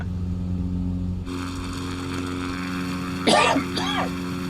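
A low engine drone hums steadily, then two short coughs break through near the end, one louder followed by a softer one.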